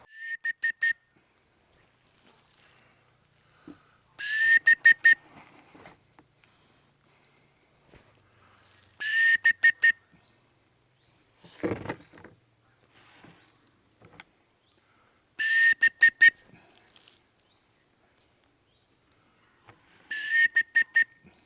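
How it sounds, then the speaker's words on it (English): Short bursts of shrill whistle pips, used to call pheasants to feed, repeat about every five seconds, with quiet gaps and a few faint shuffling steps between them. "we've been trying to get them to come in and feed on a bit of maize on the whistle"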